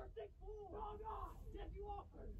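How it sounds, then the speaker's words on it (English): A crowd of people yelling and screaming outdoors, heard from indoors at a distance, with overlapping whoops and shouts rising and falling continuously. "there's a bunch of people screaming outside"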